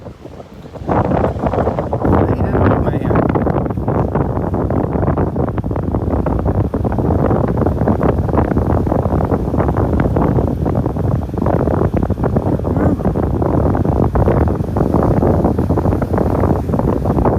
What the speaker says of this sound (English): Windy up here.